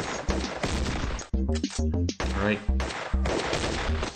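Shotgun fire from a video game comes as several loud, sharp blasts in quick bursts, with short gaps between them and someone talking briefly over them.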